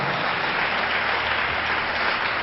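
A congregation at a Telugu church service claps loudly together, a dense, continuous roar of hands that stays level throughout with no voices over it.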